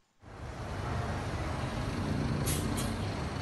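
A tow truck's air brakes let out a loud, sustained hiss of release after an abrupt start, close by on a street where a car is being loaded onto the truck.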